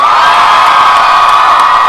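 Gryffindor fans in a Harry Potter celebration audience cheer and shout loudly, a dense, continuous crowd roar with scattered whoops rising above it for the full stretch.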